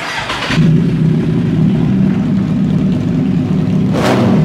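A Kawasaki Z-series motorcycle engine with a titanium race exhaust revs loudly and close, with a low rumbling burble between throttle blips. A sharp rev opens the clip and another rise comes near the end.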